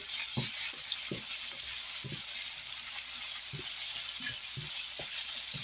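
Vegetables sprinkled with pepper and parsley flakes sizzle steadily in a hot pan, with regular scraping strokes of a utensil stirring them, close and fairly loud throughout.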